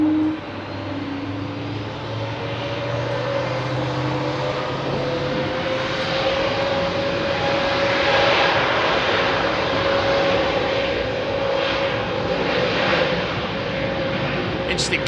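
A Lufthansa airliner in old livery passes at Heathrow runway 27R, its engine roar loud and sustained with a slowly shifting whine, and a voice talks intermittently over it.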